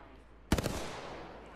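A short burst of gunfire in the Apex Legends battle royale game, a sharp loud crack followed by two or three quick follow-up shots that ring out and decay, with low background noise around it.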